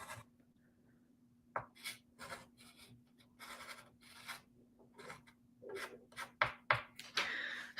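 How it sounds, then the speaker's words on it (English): Chalk scratches out stars on a chalkboard in short, sharp strokes and taps, heard close in an otherwise quiet room with a faint steady hum beneath. "We'll just add some stars around, and if it's too much, we can always erase them."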